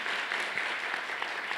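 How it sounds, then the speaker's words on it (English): A conference audience applauds a professor in a brief, soft burst of dense clapping that holds steady throughout, heard at a distance with no voices over it. "Please give my professor an amazing round of applause."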